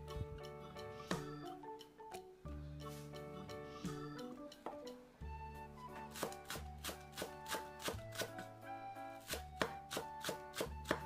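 Knife chopping vegetables and fruit such as pear and kiwi on a cutting board for galbi marinade, rapid rhythmic taps in bursts, close and clear, with music playing underneath.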